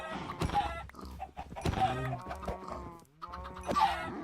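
Minecraft chickens clucking in short, irregular bursts with a few sharp squawks, close and fairly loud, with no talk over them.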